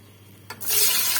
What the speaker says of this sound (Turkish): Patateslerimizi bu şekilde kızartalım.